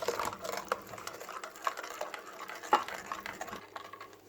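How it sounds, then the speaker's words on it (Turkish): A whisk beats sugar, salt and milk together in a bowl, making quiet rapid clicks and tapping strokes against the sides, soft and close, with no voices. "Çırpıcımızla malzemelerimizi güzel bir şekilde karıştırıyoruz."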